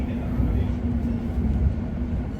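London Overground Lioness Line train running toward Watford Junction, a steady low rumble of the carriage in motion with a constant hum, continuous and fairly loud throughout.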